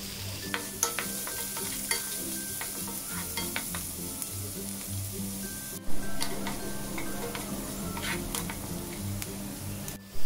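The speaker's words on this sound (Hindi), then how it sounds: "अब बारीक कटा हुआ एक बड़ा प्याज डालें और 2 मिनट के लिए अच्छी तरह से मिलाते हुए भून लें" One large finely chopped onion fries in a pan while being stirred: a continuous close sizzle runs throughout, with repeated scraping and clicking strokes of the spoon against the pan.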